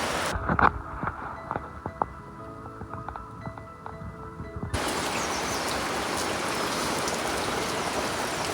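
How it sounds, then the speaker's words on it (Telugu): After a few seconds of drips and taps, a dense, steady wash of heavy rain in Nepal takes over and continues without a break. "కంప్లీట్ వర్షం"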